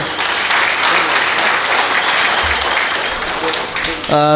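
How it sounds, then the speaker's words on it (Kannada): Sustained, loud audience applause fills a Rotary Club Puttur City officers' installation ceremony hall, steady throughout, with a voice starting to speak just at the end. "ಇನ್ನೊಮ್ಮೆ ಜೋರಾಗಿ ಚಪ್ಪಾಳೆ"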